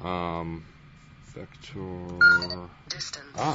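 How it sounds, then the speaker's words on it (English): Mobile phone giving off short electronic beeping tones, a few bright bursts that cut in between stretches of a man's speech during a programming tutorial about a tower defense game. "that's my phone being mean."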